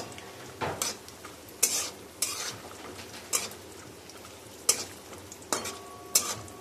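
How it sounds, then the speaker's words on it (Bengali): Cashews and raisins added to peanuts frying in oil over a low gas flame, giving a soft continuous sizzle broken by several sharp stirring scrapes and clinks of a utensil against the pan, close by and with no talk. "ওতে কাজু বাদাম আর কিশমিশ অ্যাড করে দিচ্ছি।"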